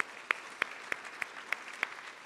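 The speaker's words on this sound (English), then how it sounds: "So can we give a big round of applause to our sponsors for today?" Sparse applause for sponsors at an awards event: about seven distinct, evenly spaced claps ring out over a faint wash of room noise, with no one speaking.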